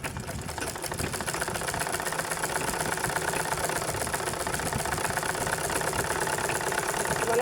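A sewing machine runs continuously as it stitches a straight half-inch seam in cloth, giving a steady, fast mechanical whir and rapid needle clatter at an even speed, close up and unbroken.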